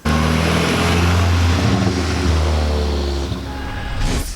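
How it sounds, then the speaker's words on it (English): A 2000s MK4 VW Jetta GLI with a 1.8-liter turbo four-cylinder and muffler delete, idling loudly and close with a raspy low drone and a slight dip mid-way. "This one's breathing a little bit easier due to a muffler delete."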